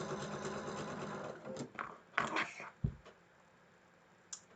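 Sewing machine stitching a seam on a quilt block, a steady close whirring run that slows and stops partway, followed by a few handling bumps and a brief soft tap near the end.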